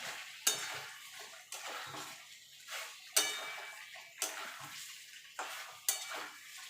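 Fried potatoes are folded into an oily spice masala in a pan for a no-onion, no-garlic white dum aloo. A spoon gives soft, spaced knocks against the pan about every second over a faint background.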